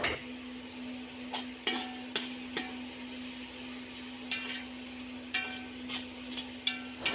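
Chopped tomatoes stirred into a beef masala pan give off a soft, steady sizzle under a faint hum, punctuated by periodic scrapes and clinks of a spoon against the pot.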